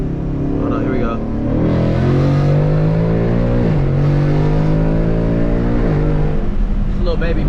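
A Ford Mustang GT with a 10-speed automatic accelerates hard at night, its loud, close engine note climbing steadily in pitch and dropping sharply at two quick upshifts before pulling again.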